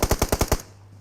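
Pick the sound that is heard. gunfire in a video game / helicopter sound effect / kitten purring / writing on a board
gunfire in a video game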